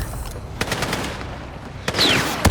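Gunfire in the Battlefield 6 video game: a few sharp cracks and bursts stand out over a steady battle rumble, with one whistling projectile sweep near the end, fairly loud and close.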